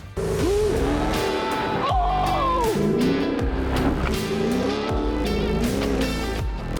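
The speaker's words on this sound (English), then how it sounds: "We had a Porsche jump the other day, which if you guys haven't seen, check this out." A Porsche launches off a dirt-track jump, its engine revving and wailing at high pitch with shifting tones and tire noise, loud and close, while voices talk underneath.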